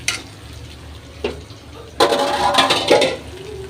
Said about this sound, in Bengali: আমি এখন গরম পানি দিয়ে দিব।